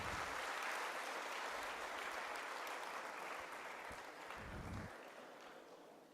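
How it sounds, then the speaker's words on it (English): Applause at a college event marking an MOU signing, a faint, distant and steady crowd clapping that slowly fades toward the end. "Shall we have an applause?"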